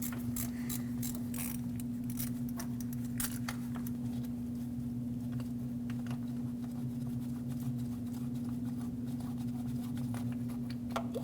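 A ratchet clicks in quick, irregular runs while breaking free a compressor bolt on a Lexus IS250 2.5L V6. A steady mechanical hum sits underneath, and the clicking thins out over the rest of the clip.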